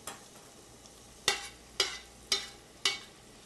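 Garlic sautés in a pan with a low background sizzle, broken by four evenly spaced sharp scraping strokes of a utensil stirring it, close and fairly quiet.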